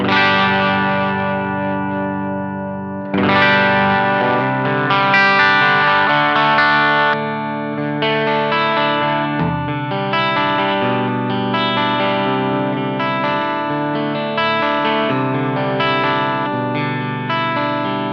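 An electric guitar through a Two Notes Le Clean preamp, blending clean and slightly distorted signals, plays chords and picked notes with mild grit and a chorus-like shimmer, sustained tones ringing out between strums.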